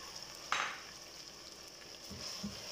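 Chicken pieces fry in ginger garlic paste for a chicken chana curry, giving a soft, steady sizzle with a brief louder burst near the start, as if the meat hits the pan or gets stirred, and a couple of low knocks later.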